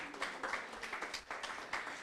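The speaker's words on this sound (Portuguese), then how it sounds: "Eu peço uma salva de palmas" Applause from an audience at a Portuguese-language writers' meeting session, a modest round of clapping in uneven pulses, fairly close and without any talk over it.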